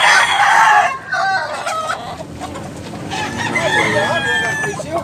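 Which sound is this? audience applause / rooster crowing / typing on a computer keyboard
rooster crowing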